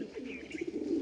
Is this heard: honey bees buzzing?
no